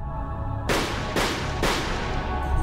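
Three sharp gunshots from a Death Note video game, evenly spaced cracks over a low hum of game ambience.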